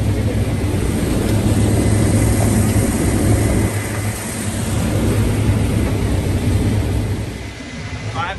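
Combine harvester engine running during harvest time in Michigan, heard from inside the cab: a steady, loud low drone with mechanical rumble continues throughout, while people talk over it.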